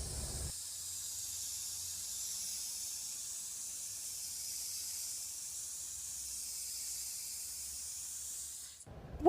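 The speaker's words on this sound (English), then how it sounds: "And then we're gonna spray paint." Steady, close spray paint hiss from an aerosol can on a DIY Christmas decor craft, one long continuous burst of about eight seconds that stops abruptly, with no talking.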